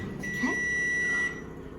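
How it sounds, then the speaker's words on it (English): Kitchen oven timer going off after baking buns, a single sustained electronic beep lasting about a second, clear and close over quiet room tone. "Okay, there's the timer."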